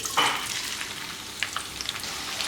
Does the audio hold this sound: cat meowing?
no